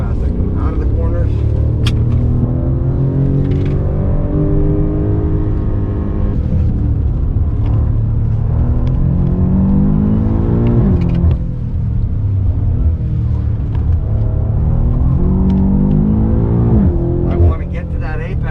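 BMW M4 engine accelerating hard on a small race track at an Arizona driving school, rising and falling through revs in continuous loud waves from inside the car, with someone talking over it throughout.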